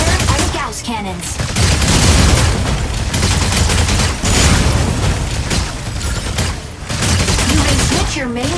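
Gauss cannon fire in the mech combat game Mecha Break: dense, loud bursts of heavy weapon fire and booming impacts roll almost continuously, with brief dips between volleys.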